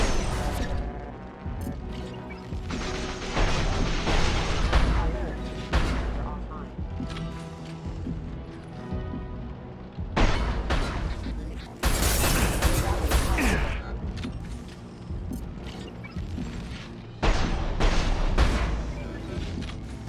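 Heavy gunfire and explosions in a Mass Effect 2 combat sequence, with loud bursts and crashing blasts repeating throughout, dense and close, with game dialogue and voices mixed in.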